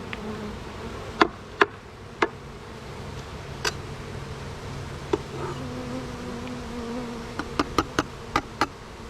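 A steady insect drone of honey bees fills the background, punctuated by scattered sharp clicks and taps at irregular intervals.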